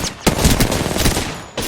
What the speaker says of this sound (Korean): 누가 날 쏘는데?